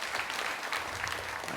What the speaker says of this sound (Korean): 우리 진경 회장님들 박수 한번 보내주십시오.